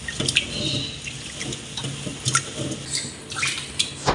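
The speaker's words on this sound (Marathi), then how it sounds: "तसंच मी आताही हे तांदूळ धुतीये." Rice grains are washed by hand in a vessel of water, producing close, repeated swishing and splashing in uneven bursts with light drips.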